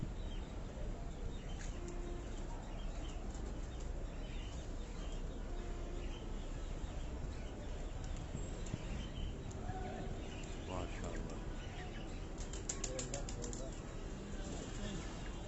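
Golden pigeons on a rooftop loft give soft intermittent coos and occasional bursts of flapping wings, heard faintly against steady background hiss and someone talking.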